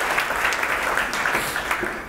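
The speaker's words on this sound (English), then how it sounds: "Let's give him a big round of applause" An audience gives a round of applause for a presenter coming to the stage at a beverage showdown event, a steady wash of crowd clapping throughout, easing slightly at the end.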